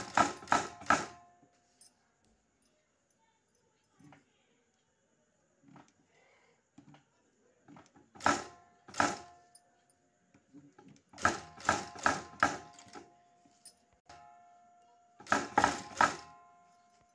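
A sewing machine stitching along the border of a silk blouse, running in short separate bursts of rapid mechanical clatter with quiet pauses between them.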